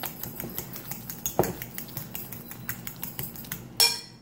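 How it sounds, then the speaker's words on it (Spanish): Ripe plantain mashed in a bowl with oil and sugar, giving a steady run of close, light clinking taps from a utensil, with one sharper knock partway and a louder scrape near the end. "vamos a machacar aquí nuestro plátano y vamos a agregar nuestro aceite"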